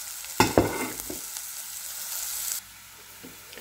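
Onion, carrot and capsicum sautéing in a pan for cheese pasta: a steady close sizzle with a few clanks and scrapes of stirring early on, then the frying drops to a quieter hiss.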